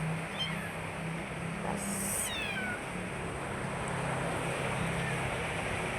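Pet cats meowing at home over a steady outdoor wash like wind or surf, with a brief voice speaking partway through.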